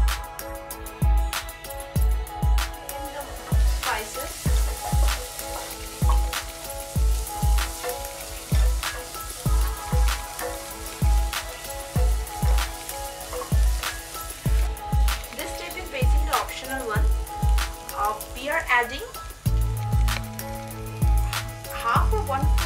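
Spices hit hot oil in a pan while cooking Bengali doi potol with pointed gourd, giving a steady crackling sizzle broken by regular sharp taps of a utensil against the pan, close and fairly loud.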